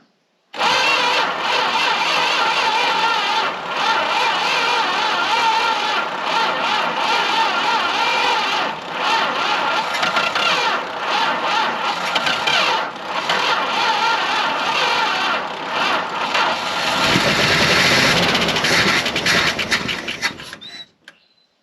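A Dodge W300 4x4 dump truck engine is cranked over at length with uneven, sputtering bursts before it catches and revs up loudly, close and sustained for about twenty seconds with no talking.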